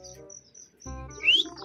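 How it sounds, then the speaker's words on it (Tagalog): Racing pigeon arriving at a loft in Bamban, Tarlac, with brief chirping and a sharp rising squeak near the end, sounding close and alone over faint outdoor background. "dumating ito isang ibon natin"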